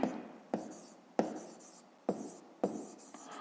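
Pen writing on paper during a fifth-grade maths exercise, close and clear, in five short scratchy bursts, each starting with a sharp tap and trailing off, with no talk over them.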